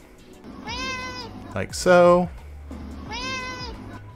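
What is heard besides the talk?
phone recording of a cat named Eliza meowing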